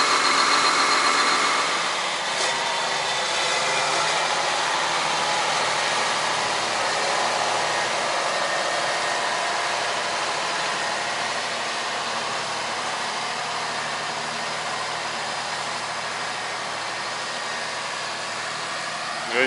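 A steady, loud engine rumble idles continuously throughout, heavy farm machinery running during a wheat harvest with a constant vibrating drone and no talking.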